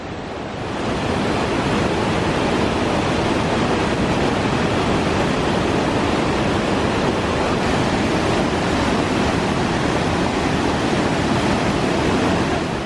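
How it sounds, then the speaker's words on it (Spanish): Steady rushing water of waterfalls and rain in a forest near a lake at Ojos del Caburgua, Pucón, a dense continuous roar that fills the whole clip without a break. "escuchar el agua, la lluvia, las cascadas, el bosque"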